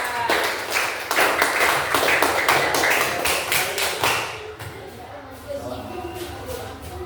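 Students in a classroom give a round of clapping for a discussion group, a quick run of distinct hand claps for about four seconds that fades into quieter room sound and faint voices.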